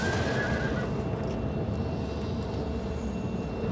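A horse in the video game Oblivion Remastered lets out a loud whinny at the start, followed by a rumbling, noisy game soundscape.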